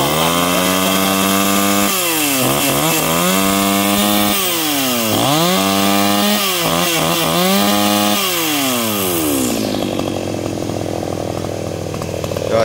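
G410 chainsaw engine roaring close by while sawing a huge raintree, repeatedly surging and dropping in pitch as the bar bites into the wood, then settling toward a lower idle near the end.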